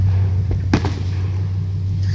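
Distant Fourth of July fireworks burst in a couple of quick pops against a steady low hum, fairly faint and without talk.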